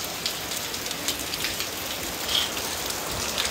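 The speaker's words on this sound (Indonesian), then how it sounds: "Soalnya hujan banget." Heavy rain pours steadily, a dense, even hiss of drops on surfaces that stays loud and unbroken throughout.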